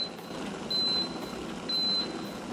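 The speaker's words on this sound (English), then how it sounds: "There, you hear those beeps" Two steady high-pitched electronic beeps from an electric gooseneck kettle shutting off after boiling, each lasting about a third of a second, sound a second apart over a low appliance hum.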